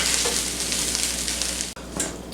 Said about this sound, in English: What we're going to do then is stir in the onion mixture.